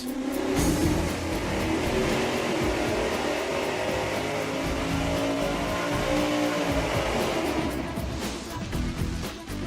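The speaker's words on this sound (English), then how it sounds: "The last set of mufflers we're gonna test here are the Flowmasters" A high-horsepower V8 on an engine dyno, fitted with Flowmaster mufflers, roars at sustained high revs, loud and close, then the note drops and winds down near the end.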